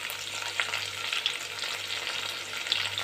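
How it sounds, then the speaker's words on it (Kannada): Curry leaves fry in hot oil with garlic for dal khichdi. The sizzle is steady and moderately quiet, crackling continuously without any voices. "ಸ್ವಲ್ಪ ಕರಿಬೇವು ಹಾಕೋತಾ ಇದ್ದೀನಿ."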